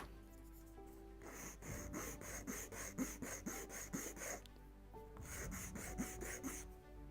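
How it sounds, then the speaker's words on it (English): Sandpaper rasps back and forth over a wooden bulkhead for a 1:76 scale Mayflower ship model kit, in two bursts of steady rhythmic strokes, close and fairly quiet with no talking. "This one needs some sanding, even some"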